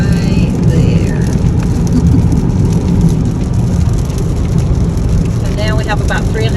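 Rain beats steadily on a car driving along a Texas highway, a dense continuous hiss layered over constant low road rumble, with no pauses throughout.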